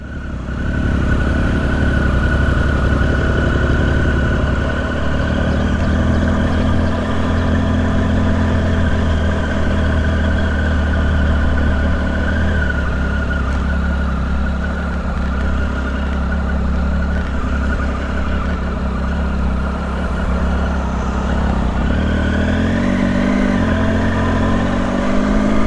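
A motorcycle engine idles steadily before a touring ride, a continuous low, throbbing rumble that stays close and loud throughout, with a slight rise in pitch near the end.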